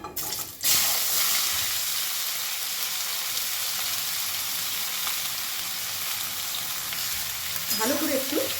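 Chopped ash gourd sizzles steadily in a hot pan for a vegetarian dish, a loud, even frying hiss that runs throughout, with a brief clatter as the pieces go in and a light scrape near the end.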